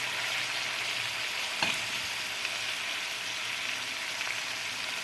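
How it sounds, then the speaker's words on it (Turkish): Onion and meat sizzle steadily in a pan with spinach, a close, continuous frying hiss broken by a few soft scrapes of stirring and no talk. "Şimdi biraz da ıspanakla kavuracağım soğanını, etini."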